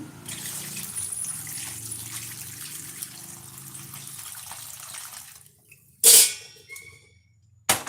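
Water poured over cut snake gourd pieces to rinse them during home cooking, a steady trickling splash that runs for several seconds, stops, then gives a couple of brief louder splashes.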